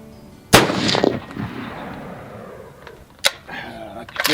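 Two sharp rifle shots from a Sauer 100 firing Norma 165 grain Oryx ammunition, each a loud close crack followed by a long rolling echo, with the second shot about three seconds after the first.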